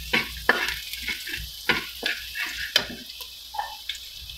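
Garlic stir-fried in a pan: a light sizzle broken by sharp scraping and tapping strokes of a spatula, close by and moderately loud, with no voices.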